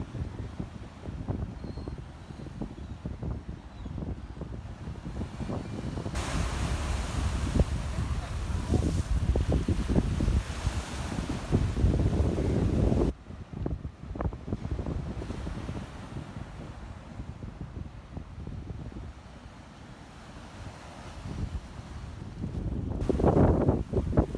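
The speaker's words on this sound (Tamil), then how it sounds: "நாட்டில பல பாகங்களிலும் உள்ள கடல்கள் சரியான கொந்தளிப்போடு இருக்கு" Rough, churning sea off the Mullaitivu coast whipped by strong wind, with continuous waves surging and crashing and heavy wind buffeting the microphone, loud and close.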